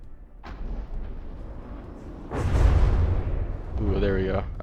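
Missiles launching in the naval combat game From the Depths, a series of booming whooshes that swell into a loud, sustained roar near the end, with no talk over them.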